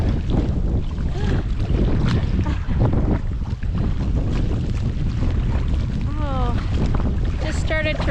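Strong wind of up to 55 knots buffets the microphone with a constant low roar, while water sloshes around a small boat and faint voices come through briefly.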